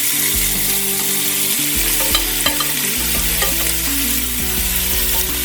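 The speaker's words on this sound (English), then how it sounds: "We're gonna add our ground beef." Ground beef sizzling and frying in a pan alongside vegetables while being stirred, a loud, steady crackle with scraping stirs, close up, beneath background music.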